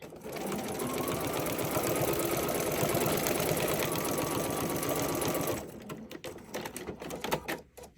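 A sewing machine stitches fabric in a fast, loud, continuous run for about five and a half seconds, then stops, leaving a few scattered clicks and handling sounds.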